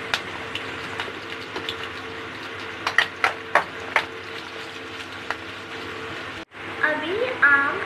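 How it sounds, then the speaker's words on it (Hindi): A spoon stirs chili powder and pickle powder into mango pickle, giving a few clicking scrapes against the pot over a steady sizzling hiss. A brief clatter near the end. "अभी चिल्ली पाउडर और अचार पाउडर डाल के अच्छी तरह मिक्स करना"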